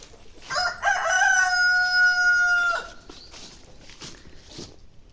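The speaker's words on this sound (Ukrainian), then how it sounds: "Півні розриваються." A rooster crows loudly and close by, one long sustained call lasting a couple of seconds, followed by faint ambient outdoor noise.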